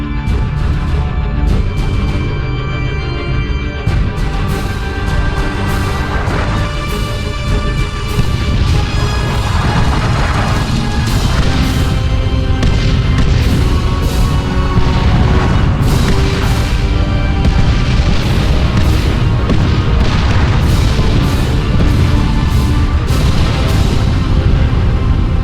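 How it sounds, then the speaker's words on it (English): Artillery barrage in Dawn of War II, a dense, loud wall of continuous booms and crashing impacts rolling on without pause, layered with battle noise and a musical score. "The traitors are laying down a barrage to soften us up."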